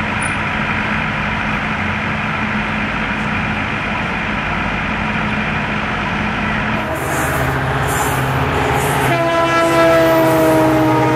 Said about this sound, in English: finally, after a long time, made it to the Nilgiri Mountain Railway